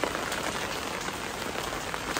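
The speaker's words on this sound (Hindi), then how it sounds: "क्या बारिश हो रहा है" Rain pours steadily, a dense even hiss of falling drops filling the whole stretch with no pauses.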